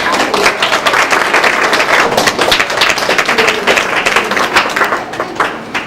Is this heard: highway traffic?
no